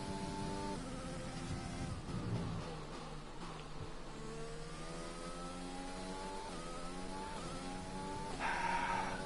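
An F1 car engine in the racing game F1 2020, lapping Bahrain, holds a steady high whine with rising and falling gear sweeps and brief revving peaks, loud and continuous throughout.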